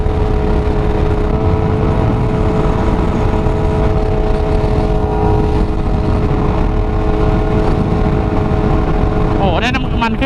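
Motorcycle engine droning steadily while riding in sixth gear, loud and continuous with heavy wind rumble, close to the rider, ending in a brief burst of higher noise.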